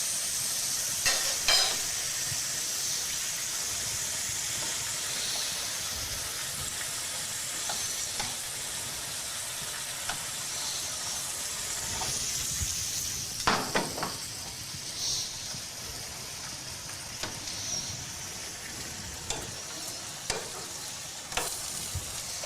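Leftover elk taco juice bubbles and sizzles steadily as it reduces in a hot pan, a continuous frying hiss with occasional stirring clatter and soft pops, close and fairly loud, with no speech over it.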